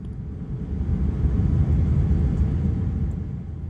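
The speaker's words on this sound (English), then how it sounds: "After a rather long taxi and a queue for the runway, it was now time to take off." A Singapore Airlines Airbus A380 takes off at night on a Singapore to Sydney flight, heard from inside the economy cabin as a steady, heavy low engine roar that swells and holds throughout, with no talking.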